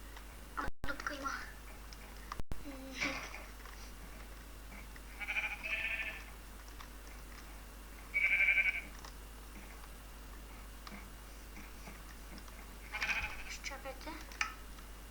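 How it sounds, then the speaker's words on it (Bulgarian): Sheep in the video game Minecraft bleat in short, separate calls spread across the scene, fairly quiet, while a person talks briefly between them. "А тук в този байом има само овце."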